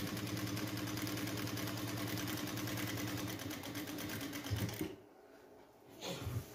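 Sewing machine stitching a shirt placket, a loud, steady rapid mechanical whirr and clatter running for several seconds before stopping, followed by faint handling noises.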